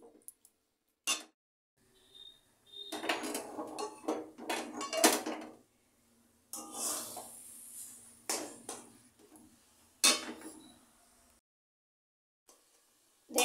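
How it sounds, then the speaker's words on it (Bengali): A spatula scrapes and knocks around a pan of eggplant bharta cooking in mustard oil, in irregular bursts of clattering strokes separated by near-silent pauses. "এবারে এটাকে ভালো করে নেড়ে নেড়ে রান্না করতে হবে।"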